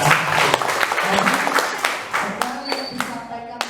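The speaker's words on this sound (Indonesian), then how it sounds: "Oke, berikan aplaus buat Mas Alex ya." A class gives a short burst of applause during an economics lesson; dense clapping fills the first few seconds, then thins out into scattered claps as a voice carries on.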